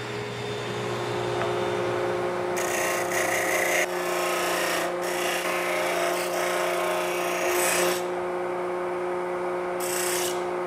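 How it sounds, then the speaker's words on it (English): A disc sander whirs steadily under a motor hum while small wooden parts are pressed against it, producing several bursts of rasping abrasion of differing lengths, close and moderately loud. "we'll go through these small parts and clean them up on the disc sander a wee bit"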